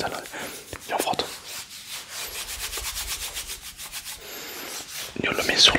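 Hands rub together a substance spread across the palm while cooking, giving close, dry, brushing strokes in a fast, regular rhythm, with a louder burst of rubbing near the end.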